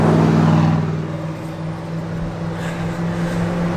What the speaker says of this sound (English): Now there's a car coming up behind me.